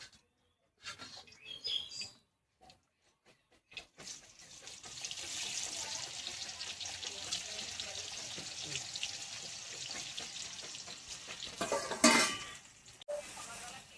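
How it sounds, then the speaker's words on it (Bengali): Onions frying in oil for a vegetarian soya biryani, a steady broad sizzle that builds after a few quiet seconds and holds for about ten seconds, with a brief sharper burst near the end and faint birds in the background. "এই তেলে এবার আমি পেঁয়াজের বেরেস্তা ভেজে নেবো।"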